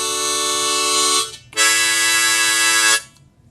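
Two sustained chords on a new Suzuki HarpMaster harmonica ring out loud and close, the first about a second long, a short gap, then a longer held chord.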